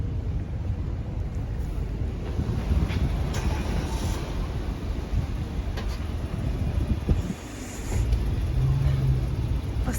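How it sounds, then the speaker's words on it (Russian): Car rolling into a parking lot in cold, windy Ulan-Ude on a road trip from Yakutsk, a loud continuous low engine and tyre rumble from inside the cabin, with a brief dip and a faint tonal hum near the end. "Сейчас на стоянку заедем."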